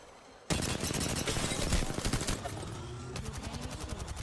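Gunfire fills a match of Apex Legends, with a sudden loud burst of rapid automatic shots followed by a slightly quieter, steady stream of evenly spaced rounds.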